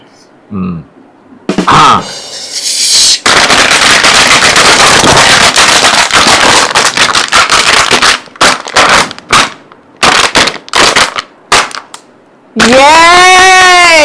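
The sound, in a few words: imitated string of firecrackers bursting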